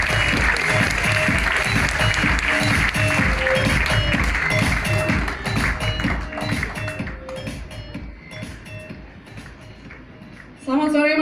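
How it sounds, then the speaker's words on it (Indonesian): An audience at a workshop in Bali claps in steady, dense applause that holds loudly for several seconds, then gradually thins and fades before a voice cuts in at the end. "Boleh tepuk tangannya?"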